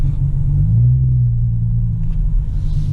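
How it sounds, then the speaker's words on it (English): A rear-wheel-drive car gaining speed on a snowy winter road, its engine giving a steady, loud low rumble that swells slightly as gas is added, continuous throughout with no voices. "just add a little gas and the car goes"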